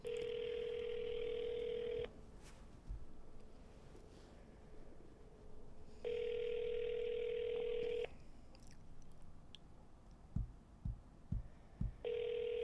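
Telephone calling tone while phoning a friend: two-second ringback tones repeat at regular intervals, separated by quiet gaps, with a few soft clicks and taps near the end.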